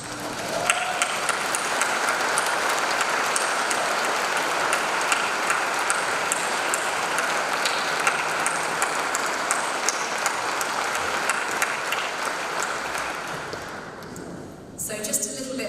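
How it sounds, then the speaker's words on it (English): Sustained audience applause at a community awards evening, a dense, steady wash of clapping from a crowd that carries on for about fourteen seconds before thinning out near the end. "would you mind standing so we could just give you a round of applause and give you our thanks?"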